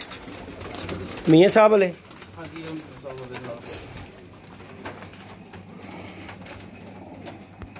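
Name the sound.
pigeons cooing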